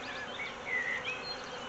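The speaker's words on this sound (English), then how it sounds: "Hoping to see the queen because there's not many bees in here." Honeybees buzz in an opened beehive with few bees inside, a faint high drone with a few rising and falling whines as single bees fly close past, heard alone without talk.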